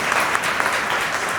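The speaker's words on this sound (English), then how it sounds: "Clap for Shambhavi." An audience claps for a student speaker at a school elocution and prize-distribution ceremony, a dense, even burst of applause filling the short moment with no talk over it.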